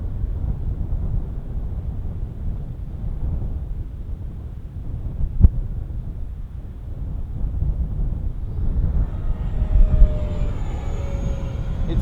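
An FMS BAE Hawk 80mm EDF model jet in Red Arrows livery flies in strong crosswind, a distant ducted-fan whine and rush mixed with heavy wind buffeting, with a faint rising whistle near the end.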